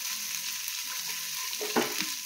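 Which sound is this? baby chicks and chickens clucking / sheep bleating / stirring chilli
stirring chilli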